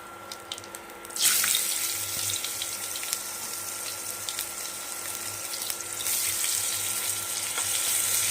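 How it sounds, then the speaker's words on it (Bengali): Cumin seeds and chopped onion drop into hot oil, and a sudden broad hiss of frying bursts in after a quiet second and keeps going loud and steady, with a faint hum underneath. "তো এখানে দেখো তেল গরম হয়ে গেছে, এখন দেবো জিরে ফোড়ন, আর সঙ্গে দেবো পেঁয়াজ কুচি।"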